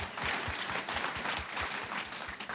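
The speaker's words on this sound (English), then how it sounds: "that big round of applause" Audience applause at a conference session on art, a dense steady clapping from a crowd that stays loud and even throughout without a clear break.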